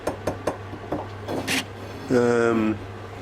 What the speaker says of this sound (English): I'll start by drilling the holes.